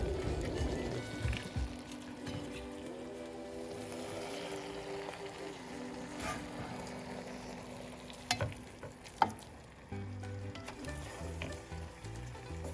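A mixture of sardine, eggs and peas being stirred in a pan, with scraping and soft sizzling under background noise, and a few sharper knocks of the utensil near the end.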